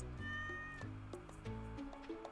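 A cat in the Stardew Valley farming game meows in a short string of clear, close, tonal mews, a few cries in a row that stand alone with no talking.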